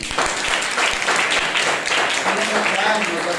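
Loud, steady applause from an audience at a Sunday morning church service honouring the women, with voices and a few cheers mixed into the dense clapping.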